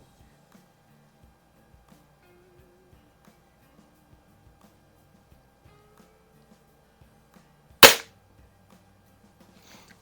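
A single sharp air rifle shot, from a Diana 24 or Daisy 856, cracks loudly near the end after a long stretch of near silence with faint ticking.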